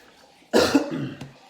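One harsh, close cough bursts out and trails off, followed by a small click in an otherwise quiet room.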